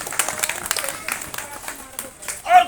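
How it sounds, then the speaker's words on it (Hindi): Scattered audience applause at a Delhi Congress party political rally, a loose patter of claps mixed with crowd noise and overlapping talk. "तालियां।"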